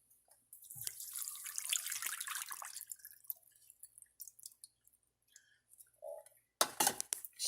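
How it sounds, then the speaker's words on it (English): Water pours and splashes into a bowl holding chicken and salt for a brine, for a couple of seconds, followed by a few light clinks and a brief louder rush near the end. "Add the water."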